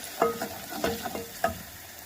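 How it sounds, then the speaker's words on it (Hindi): Onion and ground garlic fry in a pan while being stirred, a low sizzle with a few distinct spatula scrapes and taps at irregular intervals, close and fairly quiet. "इसे हम 3 से 4 मिनट तक भूनेंगे प्याज को"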